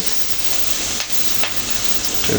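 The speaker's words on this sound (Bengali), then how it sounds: "পেঁয়াজগুলো হালকা ব্রাউন কালার করে ভেজে নেব" Chopped onions frying in hot oil in a pan after fish has been fried: a dense, loud, continuous sizzle close by, with a couple of faint stirring taps.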